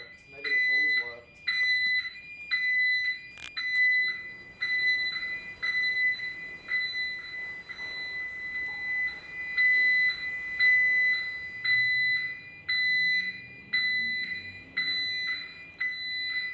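Loud electronic alarms sounding in an abandoned leisure centre after the power is switched back on, a repeating rhythmic beeping pattern that continues steadily with quiet background movement underneath.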